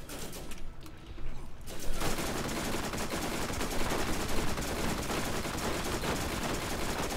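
Rapid gunfire at a skag in the video game Borderlands, a dense, continuous barrage of shots that bursts in after a short quieter opening and keeps up loudly throughout.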